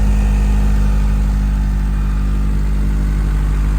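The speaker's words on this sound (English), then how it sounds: "it's idling and running way better than it did when it got here" A Honda car engine idles steadily up close after a distributor replacement, a loud continuous low rumble with no talking.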